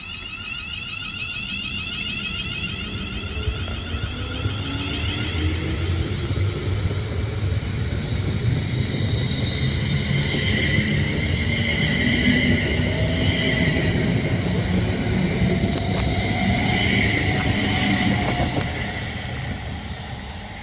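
Class 350 electric multiple unit 350 376 pulling away from Rugby station on the West Coast Main Line, a steady loud rumble with whining traction motors and hissing, sustained throughout at close range.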